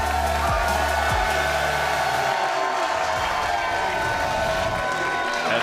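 Loud crowd noise fills an arena at the NHRL 2024 robot fighting world championship finals, a steady roar of voices chanting and cheering throughout, with a couple of brief low thumps early on.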